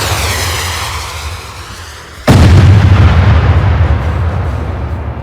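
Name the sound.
bazooka fired, explosion in film scene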